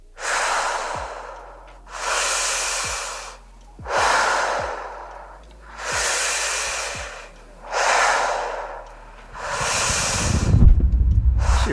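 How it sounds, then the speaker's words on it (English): Heavy, deep breathing from the Project Mara teaser trailer, six slow rhythmic inhale-exhale cycles close to the mic, loud and breathy with low thumps between, ending in a rumbling swell. "breathing hard as hell"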